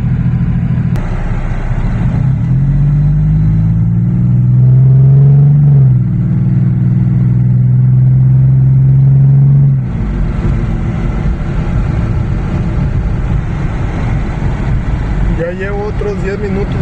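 A 2007 Dodge Charger V6 with a fault that stops it moving after driving a while, its engine droning and rising in pitch as it accelerates on the road, heard from inside the car with someone talking over it.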